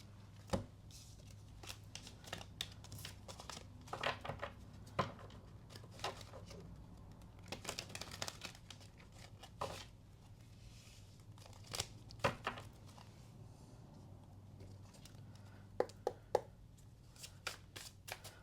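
Tarot cards are shuffled in quick, soft bursts of riffling and slapping, scattered over a quiet background with a low hum.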